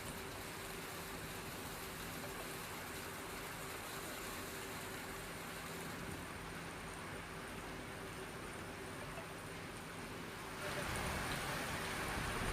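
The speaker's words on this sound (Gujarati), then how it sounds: "મોરબીમાં 1/2 ઇંચ વરસાદ પડ્યો" Continuous unseasonal rain pours down in Morbi, Gujarat, in a dense, even hiss, close and steady throughout, growing slightly louder toward the end.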